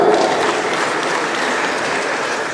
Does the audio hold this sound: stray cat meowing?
no